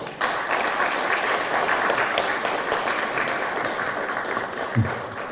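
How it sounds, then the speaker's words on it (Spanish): An audience applauds steadily at a formal lecture on the history of the Supreme Court, a dense, even wash of clapping from many hands that continues without pause throughout. "Un fuerte aplauso, por favor."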